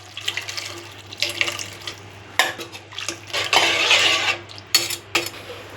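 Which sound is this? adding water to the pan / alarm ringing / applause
adding water to the pan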